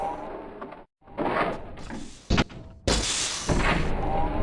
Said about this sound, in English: open this door over here